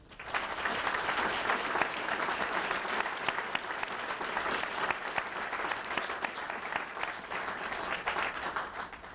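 An audience at an awards event claps in a dense, continuous round of applause that holds at an even level from start to finish.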